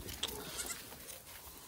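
A pregnant goat gives a couple of short, faint bleats in quick succession, heard from some distance over a quiet outdoor background.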